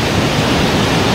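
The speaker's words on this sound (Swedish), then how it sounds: "Vi är vid Färöarnas största vattenfall." Roar of the largest waterfall in the Faroe Islands, a steady, dense broadband rush of falling water heard close and loud throughout, with no voices over it.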